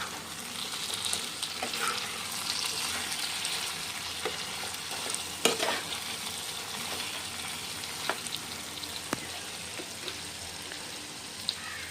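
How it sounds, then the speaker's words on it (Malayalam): Chicken pieces for chicken kondattam sizzle and fry steadily in a pan, with occasional clicks and scrapes as they are stirred, close and continuous throughout with no talking. "നമുക്കിതൊന്ന് ഇളക്കി കൊടുക്കാം"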